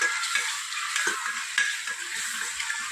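Garam masala, coriander-cumin powder and salt being stirred together in a pan, a steady soft sizzle with scraping strokes of a spoon repeating close by, no voices.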